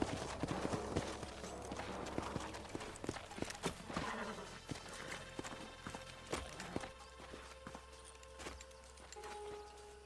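Horses' hooves clip-clop steadily in the Western video game Red Dead Redemption, moderately loud with occasional snorts or a whinny, set against outdoor ambience and faint game sounds.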